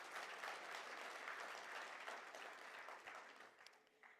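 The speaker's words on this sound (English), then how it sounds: "I think we need a hand of applause" Faint, distant applause from a stakeholders' conference audience rises briefly and then tapers off, dense and even throughout the short burst.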